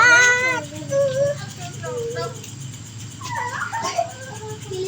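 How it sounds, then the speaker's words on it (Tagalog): Dogs whimpering and yipping at a home dinner grill, several high, wavering whines in short bursts, fairly close, over a low background hum. "Maraming aso dito."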